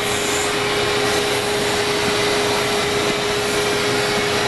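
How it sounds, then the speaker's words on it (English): A vacuum cleaner drones steadily and loudly throughout, a constant motor whine with a fixed tone, used while fitting an auto upholstery headrest cover; faint rubbing of fabric underneath. "We'll kill the vacuum."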